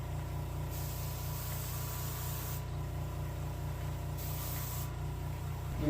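Gloss top coat sprayed onto a painted white crappie taxidermy mount, a steady close airbrush hiss running unbroken with faint compressor hum beneath, brief pauses in the brighter spray noise midway.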